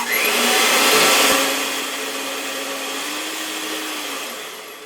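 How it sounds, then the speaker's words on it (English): A blender whirs steadily as it blends homemade body butter. The motor drone is loud at first, then eases to a slightly lower, constant hum, with no voices over it. "So we're going to use a blender here, and we're going to start blending this up."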